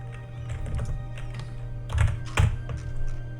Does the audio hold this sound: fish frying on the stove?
no